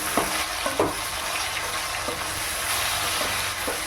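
Oil sizzling steadily in a pan as chicken sautés for a Tamil chicken curry, with a few soft scraping stirs of a spoon; no talking.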